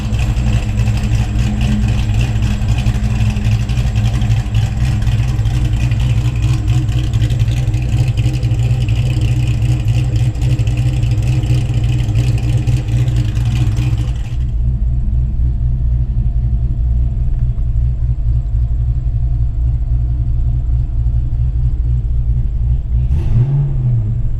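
A Ford Fox body car with a 302 V8 runs with a loud, deep rumble and revs for about fourteen seconds, then drops to a quieter idle that ends in one short blip of the throttle.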